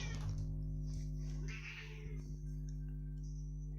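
A cat meows a few times, moderately close, over a steady electrical hum and faint background noise.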